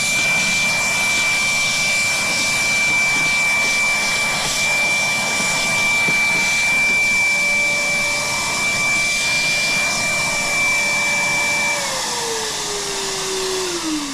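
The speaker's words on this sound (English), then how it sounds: "if I want to go to turbo, it's now in turbo mode" An EGO cordless vacuum cleaner runs in turbo mode with a loud, steady high-pitched whine and rushing airflow, its tone dropping near the end as the motor winds down.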